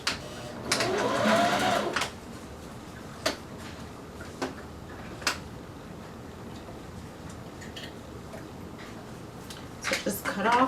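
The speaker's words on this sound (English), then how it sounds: "And back stitch." Sewing machine stitching elastic onto bikini fabric, a close burst of rapid whirring that stops after a couple of seconds, followed by faint clicks and handling noises with a short stitch burst near the end.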